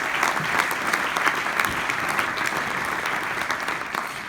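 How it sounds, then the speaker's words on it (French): Dense audience applause at an innovation awards event in Mayenne, a steady wash of many hands clapping at once, close and moderately loud, with no talk over it. "On peut vous applaudir."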